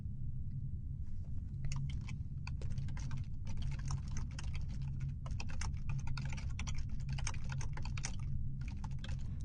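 Typing on a computer keyboard into a Word document, a quiet, steady patter of key clicks in quick irregular bursts with short pauses, over a low background hum.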